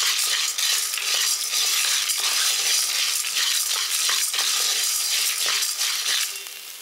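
Ingredients being dry-roasted with rock salt in a pan, a steady dense scraping and rattling of stirring with light crackle throughout, close and continuous, fading slightly at the end, with no talk.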